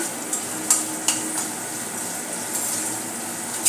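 Beans and chili pieces stir-fried over high heat for Schezwan fried rice, a steady crackling sizzle with a few sharp scrapes and clicks of the spatula, close and alone without talk.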